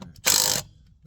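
A ratchet clicks in one quick burst of rapid, close, loud strokes as it tightens a steering knuckle stud nut on a 2014 vehicle, then falls quiet.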